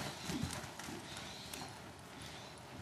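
Horse hooves clip-clop steadily on an arena surface at a show-jumping clinic, a big horse moving at a brisk, even rhythm, fairly close and clear over faint background noise.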